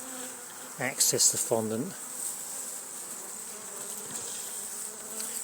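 Honeybees in a hive colony being given an oxalic acid dribble treatment hum in a faint, steady high buzz throughout, while a person speaks briefly near the start.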